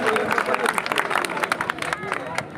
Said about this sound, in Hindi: जोरदार तालियों से जोरदार स्वागत